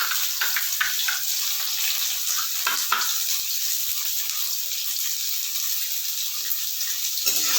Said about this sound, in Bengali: এবার আমি দিয়েছি পেঁয়াজ কুচিটা